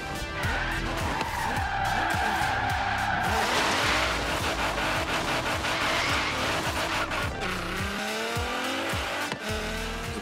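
Tires squeal and skid as a modern car drifts in Forza Horizon 3, with steady engine roar under long sliding screeches and shifting revs throughout.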